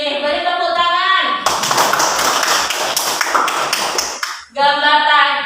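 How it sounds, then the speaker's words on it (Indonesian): Students in an Indonesian classroom during a civics lesson clap together in a short burst of brisk, rhythmic hand claps, with a voice speaking before and after. "Beri tepuk tangan."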